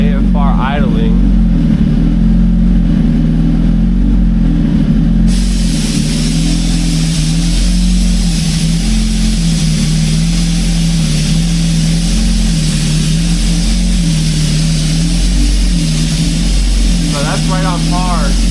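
A motorcycle engine idling on ETS racing fuel (MR12 replacement) gives a loud, steady low rumble with a slight rhythmic pulse, and a voice is heard briefly at the start and end.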